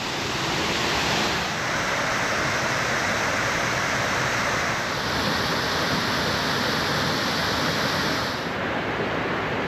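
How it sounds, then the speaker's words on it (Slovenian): Martuljek waterfall, the second of its falls in a wild gorge above Gozd Martuljek in the Julian Alps, roars as a steady, dense rush of falling water, loud and close and unbroken throughout. "Tako, prihajamo do drugega slapiča."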